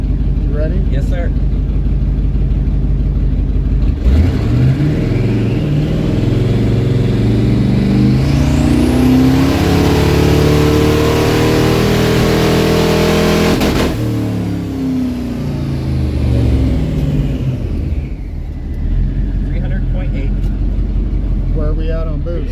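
A twin-turbo 1954 Cadillac engine idles loudly, then revs up in a long rising dyno pull that peaks and winds back down to a rumbling idle, with voices heard at points.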